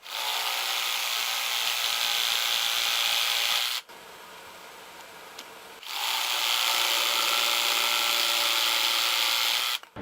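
A Black+Decker 18V cordless drill fitted with a jigsaw attachment cuts a board from a starter hole, a loud steady buzzing saw that runs about four seconds, pauses briefly, then resumes just as loud until the end.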